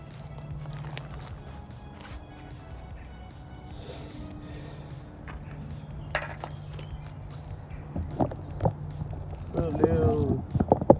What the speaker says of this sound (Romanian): Auzi cal.